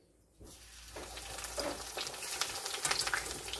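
Breaded chicken parmesan hits hot oil and bursts into a loud, crackling sizzle that builds and stays busy with popping bubbles after a brief quiet moment.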